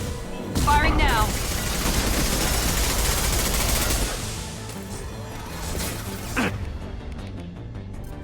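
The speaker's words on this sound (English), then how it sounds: "Firing now." Weapon gunfire in the Mass Effect 2 video game, a dense burst of rapid shots and crashing impacts, followed by continued rumbling combat noise and a few voices mixed in.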